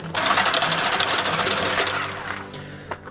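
Electric mixer whipping cream with mint extract and egg white to soft peaks, a steady loud whirring and churning that runs alone for about two seconds, then fades with a few clattering knocks.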